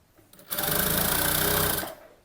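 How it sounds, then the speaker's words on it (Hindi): Sewing machine running a line of stitching along a salwar hem, a single close burst of rapid mechanical whirring and clatter lasting just over a second, starting and stopping sharply. "यहाँ पे आपको बिल्कुल किनारे में सिलाई लगानी है, पोंचे के ऊपर सिलाई आप बिल्कुल ज़्यादा मत लगाइएगा, बिल्कुल हल्के से लगाना है।"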